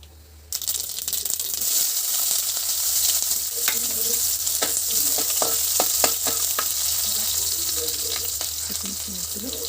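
Mustard seeds frying in hot oil for spinach dal give a steady close sizzle with a scattering of sharp crackles and pops through the middle, with no talk.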